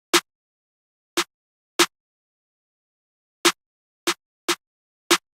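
Seven isolated, punchy claps from a programmed clap pattern in a soulful hip-hop beat, spaced unevenly with silence between them and no other sounds.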